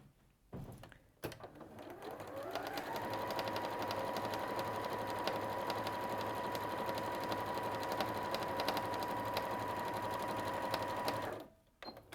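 A sewing machine runs a continuous decorative stitch through fabric and wadding for a bag, a steady close mechanical whir that starts after a brief pause and stops abruptly near the end.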